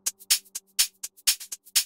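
A short, quiet drum loop processed with a clipper plugin, flattened, squashed hits, snappy snare and hi-hat strikes over a faint low hum, evenly spaced and dense.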